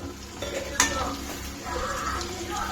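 Tomatoes fry with onions in a pan on the stove, a soft sizzle running beneath a few scrapes and clinks of a spoon stirring against the metal, close by and fairly quiet.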